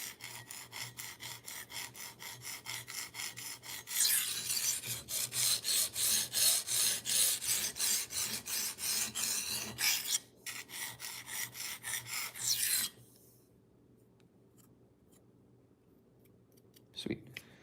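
Knife blade rubbed back and forth across a diamond sharpening stone, a steady rhythmic rasping of repeated strokes that grows louder midway, then stops abruptly, leaving near silence with a brief scrape at the end.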